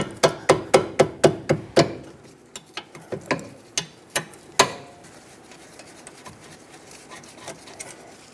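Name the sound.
wrench or socket loosening Honda Accord brake caliper bolts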